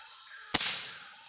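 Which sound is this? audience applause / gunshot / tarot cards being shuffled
gunshot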